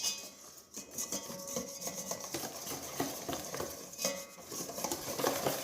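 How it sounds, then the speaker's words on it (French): A spoon scrapes steadily around a bowl, folding flour into whisked sugar and eggs for pastry cream; the mixing continues as close, continuous rasping and swishing with small clinks, and no voices are heard. "Je vais rajouter la farine et je vais mélanger tout ça pour que tout s'incorpore comme il faut"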